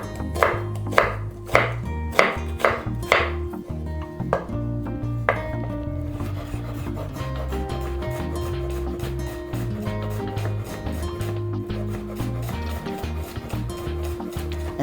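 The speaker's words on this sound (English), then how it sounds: "And we're gonna cut it like this with the 3 shallots." Knife chopping peeled shallots on a cutting board: about eight sharp, evenly spaced chops up close, then a softer run of rapid, dense cutting taps.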